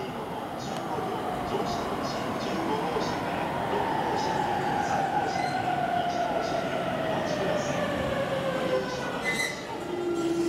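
A 15-car JR train rumbles steadily alongside a platform at Oku Station on the Utsunomiya and Takasaki lines, its wheels squealing in a long high tone, with Japanese station announcements and chimes heard over it.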